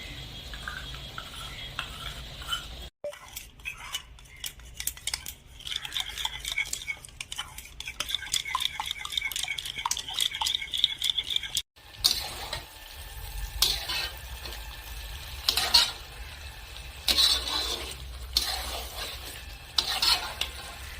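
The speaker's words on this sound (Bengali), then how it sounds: "তো বন্ধুরা এখন আমি টক দই ফেটিয়ে নেব।" Sour yogurt (curd) is whisked in a bowl with rapid, rhythmic tapping and scraping strokes that come in steady bursts, broken by two brief pauses.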